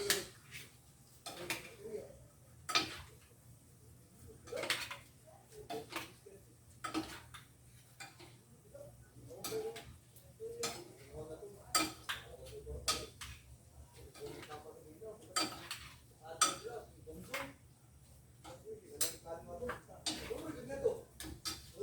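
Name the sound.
stirring and mixing pancit miki guisado in a pan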